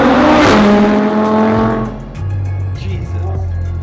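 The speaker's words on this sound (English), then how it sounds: "V10, Audi R8, supercharged." Supercharged Audi R8 V10 with a straight pipe exhaust revs hard, a loud, close, rising engine roar with harmonic whine that drops back to a rumbling idle, then blips again.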